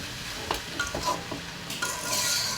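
Potato and sardine fish bhaji with coriander leaves is stir-fried in a pan, a steady close sizzle with repeated scraping strokes of a spatula.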